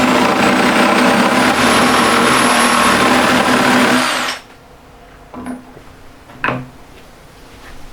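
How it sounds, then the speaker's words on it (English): An electric jigsaw cuts a wooden board to length, running loud and steady for about four seconds before stopping abruptly, followed by a couple of faint knocks as the cut piece is handled. "cut it off with the jigsaw"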